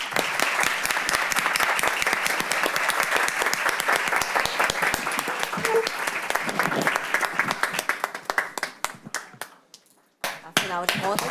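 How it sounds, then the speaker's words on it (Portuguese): Loud, sustained applause from a crowd at a council chamber session, dense clapping that thins out toward the end into a few scattered claps. "Vamos todos à salva de palmas."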